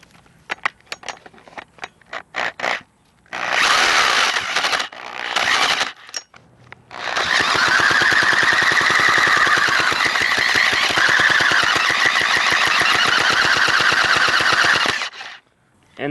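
An old Stihl chainsaw that sat unused for nearly eight years, with a flooded carburetor and muffler removed, being pull-started: loud rapid rattling bursts of the recoil pull and sputtering engine, ending in a long steady churning run.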